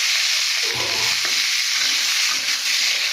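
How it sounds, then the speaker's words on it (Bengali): Leaves fry in a hot pan as they are stirred, a loud, dense, continuous sizzle with scraping stirs over it, very close and without any voices. "পাতাটা একটু ভাজা ভাজা করে নেবো"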